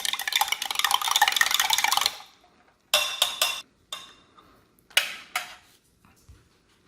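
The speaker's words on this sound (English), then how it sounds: "Raspberry drink. Give it a quick stir." An MRE raspberry drink stirred in its pouch, first as a dense, continuous rustling swirl, then as several short separate bursts of stirring with quiet gaps between them.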